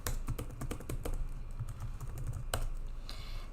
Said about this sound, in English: So I've typed that in